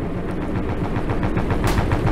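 Rapid machine-gun fire in the Stormworks video game on an oil tanker at sea: a loud, steady stream of rhythmic shots, close and continuous.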